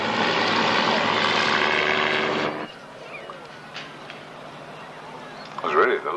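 A Hawker piston-engine fighter plane roars past at a warbirds airshow at Wroughton Airfield in 1994, its loud, broad engine drone cutting off abruptly and leaving quieter background noise.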